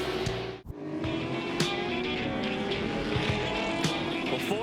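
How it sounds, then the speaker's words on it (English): Ford and Holden touring cars in a 2012 Touring Car Masters race at Queensland Raceway roar past in a dense, continuous wash of engine noise, with a brief dip and occasional tyre and gear accents. "Ford and Holden going at it at Queensland Raceway."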